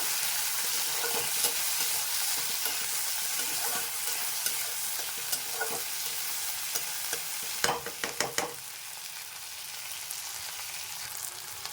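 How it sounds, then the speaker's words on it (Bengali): Chopped tomatoes with onion and cumin frying in a pan, with a steady close hiss of sizzling oil and a burst of quick scraping stirs near the end, no talking. "এবারে দিয়েছি আগে থেকে কেটে রাখা টমেটো এবার এটাকে আমি নাড়িয়ে নেবো"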